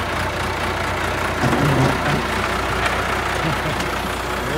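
An old Ford Freestyle minivan engine idles with a steady, close broadband rumble and hiss that holds even throughout, swelling slightly near the middle.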